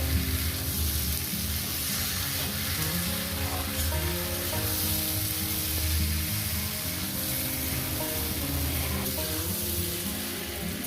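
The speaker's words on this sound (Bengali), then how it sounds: "মুসুর ডালটা দিয়ে দিলাম এবার মিনিমাম এক মিনিট একটু ভেজে নেবো তারপর জল দেবো" Red lentils fry with mixed vegetables in a hot pan, a dense, continuous sizzle with occasional stirring scrapes, loud and close throughout, with no one talking.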